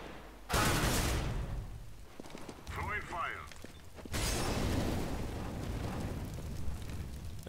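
An incendiary grenade thrown in the video game CS:GO, a sudden loud whooshing burst of flame that roars steadily, a brief quieter stretch with a crackling flicker, then another sustained fiery roar, with voices talking throughout.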